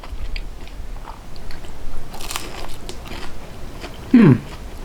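A crisp, loud crunch as teeth bite into a crispy Salvadoran empanada filled with ground beef and onion, dipped in mild salsa; a single sharp bite near the end, close to the mic, after quiet background murmur.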